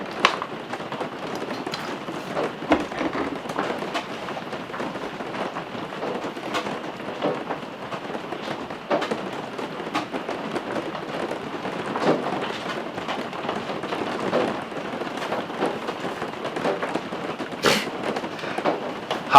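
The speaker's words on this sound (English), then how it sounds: "and just pouring down raining." Steady rain pours down with a continuous hiss, scattered louder drops and splashes, and occasional low rumbles in the distance.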